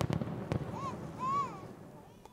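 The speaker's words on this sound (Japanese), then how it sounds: "三好市では皆既月食に合わせて150発の花火が上がりました。" Distant fireworks thud and pop a few times over a park at night during a total lunar eclipse, with faint whistling rising tones between the bursts.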